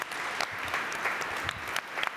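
A graduation and awards event audience applauds its production team with brisk, continuous clapping, a few sharper claps standing out in the crowd.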